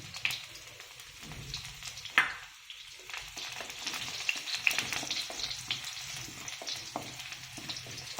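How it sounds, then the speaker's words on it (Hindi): Mustard seeds crackling and garlic frying in hot oil for a beetroot sabji, a continuous busy sizzle with scattered sharp pops and a louder burst as the garlic goes in. "अब राई क्रैकल हो रही है। अब हम जो है लहसुन डाल देंगे।"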